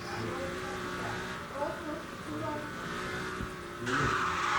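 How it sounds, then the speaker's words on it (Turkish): Car skidding and sliding in a Roblox racing game, a steady engine drone with tyre-squeal texture running throughout and swelling louder near the end, with a voice talking over it. "Araba kayıyor bildiğin."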